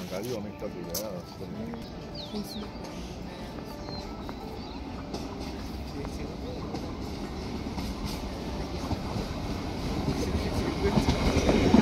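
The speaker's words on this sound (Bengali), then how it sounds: "এই যে ট্রেন আসছে এখন।" A morning passenger train rolls in toward a station near a rail crossing in West Bengal, a steady heavy rumble with rattling wheels that builds louder and closer over about twelve seconds, with no clear talk over it.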